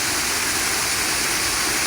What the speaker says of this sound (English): This is another waterfall along Morrison Brook.